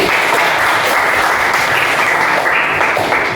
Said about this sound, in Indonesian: sebelumnya tepuk tangan dulu untuk Mas Jati.